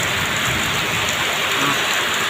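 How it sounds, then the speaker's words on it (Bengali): Heavy rain pours down in Melaka, Malaysia, a steady, dense hiss with no breaks across the short stretch, loud and close with no voices. "এখন খুব বৃষ্টির প্রচুর চাপ"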